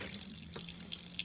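Vinegar poured as a short liquid trickle into a dishwasher's rinse aid compartment, a faint close-up splash and drip lasting about a second with no talking.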